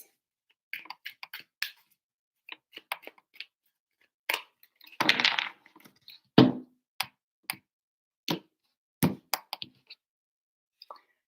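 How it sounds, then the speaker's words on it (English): Tarot cards are shuffled by hand in short bursts of soft flicks and taps, with a longer riffle in the middle, close and quiet, with no talk. "Three shuffles for Sagittarius."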